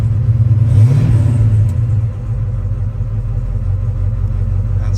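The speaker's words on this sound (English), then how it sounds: "We're going to start up our 77 K10." A 1977 GMC K10 pickup's engine cranks, catches and revs up, then settles into a loud, steady, rumbling idle close by, with no voices over it.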